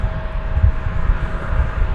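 An airliner in Reno Air retro livery rumbles at DFW Airport, a continuous low, rough engine roar with a faint steady whine above it and no pauses.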